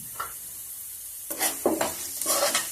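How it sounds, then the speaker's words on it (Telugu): Spices and turmeric fry in oil on a low flame for flattened-rice upma, a soft sizzle broken by a few stirring scrapes and clinks in the second half. "ఇలా శుభ్రంగా వేయించుకోవాలి లో ఫ్లేమ్లో పెట్టుకుని"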